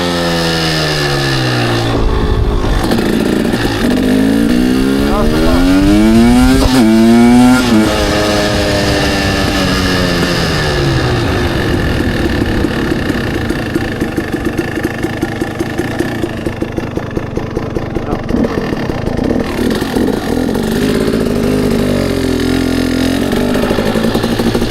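A motorcycle engine idles, then revs in several rising and falling pulls during wheelie practice, loud and close, before dropping back to a steady idle with faint clatter.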